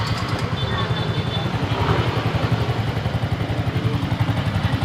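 A Mio i 125 scooter engine with lost compression starts and idles steadily with a rapid, even putter and mechanical clatter, close by and fairly loud throughout.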